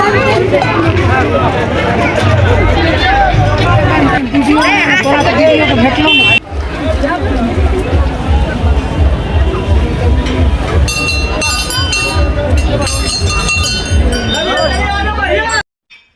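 A dense crowd mills around a Bajrang Bali temple on New Year's day, a steady babble of many voices with clinks and bustle close by, continuing loud until an abrupt cutoff at the end.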